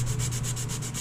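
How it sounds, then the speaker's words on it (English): Epoxy-filled binding on a Jazz bass guitar neck being sanded by hand, a close, steady scratchy rubbing with even back-and-forth strokes throughout and no talk. "filled in with the epoxy, and now I'm gonna sand it."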